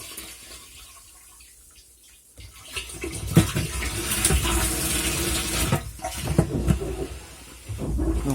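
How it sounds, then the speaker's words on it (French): Rainwater pouring into a collection container on a hillside irrigation setup, a steady rushing, splashing fill that swells louder after a quieter start and continues alone without speech. "Voilà, ça se remplit."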